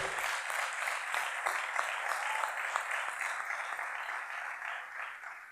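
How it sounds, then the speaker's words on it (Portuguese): A church congregation claps, a steady, moderately loud patter of applause with faint rhythmic accents that carries evenly through and eases slightly toward the end. "Pode aplaudir, pode aplaudir"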